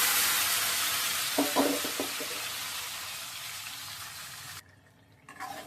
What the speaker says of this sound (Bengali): ফোড়ন আর তেজপাতা দিয়ে দিচ্ছি